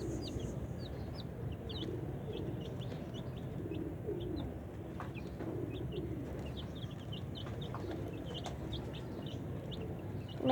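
Chickens and chicks cluck and peep over a low, steady murmur, with frequent high cheeps scattered throughout and soft clucks underneath.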